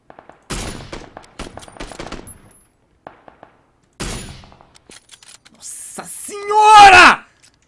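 Loud rapid bursts of gunfire in the video game PUBG: Battlegrounds in two stretches, mixed with a voice talking, ending in a louder shout-like sound.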